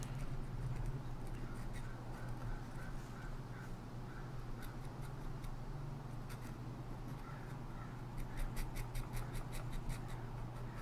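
A pen nib drags across paper while making ink drawing marks. The scratching is soft and close, coming in short, uneven strokes over a quiet room hum.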